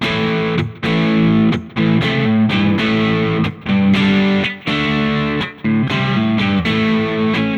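Distorted electric guitar through a Valeton GP-5 blues preset on the rear pickup, playing chopped chords and riffs, each phrase ringing out with reverb tails between short pauses.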